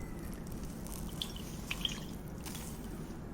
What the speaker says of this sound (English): Are you squeezing like a sponge?